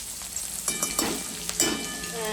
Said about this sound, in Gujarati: હવે તેલ ગરમ થઈ ગયું છે. એમાં મેં 1 ચમચી જિંજર ગ્રાઇન્ડ કરી